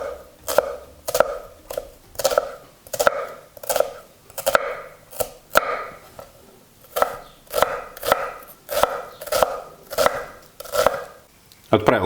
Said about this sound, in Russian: Также беру небольшую луковицу и также нарезаю мелким кубиком.